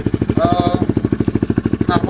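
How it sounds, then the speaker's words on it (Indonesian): Motorcycle with a loud aftermarket exhaust exceeding the legal decibel limit, on a street: a loud, rapid, steady pulsing exhaust throb runs throughout, with a voice briefly heard over it. "knalpot yang melebihi batas desibel"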